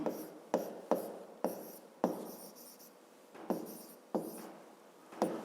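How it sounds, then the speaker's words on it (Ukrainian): Pen strokes scratch across paper while a fifth-grade maths word problem is written out, a string of short, close, distinct scribbles with brief pauses between them. "Пишемо."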